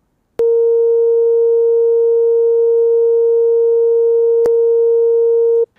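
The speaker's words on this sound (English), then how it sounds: "what we'll get is a sine wave that will go on forever" A pure, sustained sine tone from a Haken Continuum synthesizer running the EaganMatrix with zero damping, starting abruptly and holding at a steady level with a brief click partway through, then cutting off.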